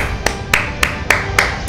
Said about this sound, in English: Mike, Saint, everyone give him a big round of applause when he gets back